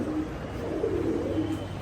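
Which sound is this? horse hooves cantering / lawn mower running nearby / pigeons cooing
pigeons cooing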